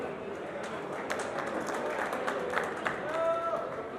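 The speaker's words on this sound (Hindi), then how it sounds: "आप जोरदार तालियों के साथ में साथियों का हौसला अफजाई करते रहें" Scattered applause from an audience at a blood donation ceremony, faint and patchy, under ongoing talk.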